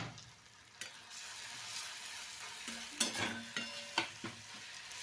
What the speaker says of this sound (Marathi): कांदा भाजलेला आहे त्याच्यामध्ये आपण आता टमाटर घालूया आता आपण एक चमचा अद्रक लसूणची पेस्ट घालूया